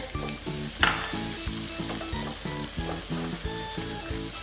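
Chopped garlic sizzles in hot oil in a pan for Gobi Manchurian, a continuous near hiss with one brief stir clatter, under a steady rhythmic background tone.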